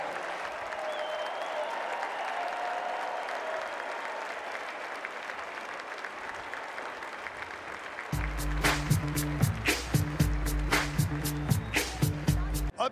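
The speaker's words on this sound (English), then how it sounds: "How about a big round of applause?" Large outdoor crowd at a Clemson military appreciation presentation applauds, a broad steady wash of clapping and cheering that goes on for several seconds before music with a strong rhythmic beat cuts in loudly.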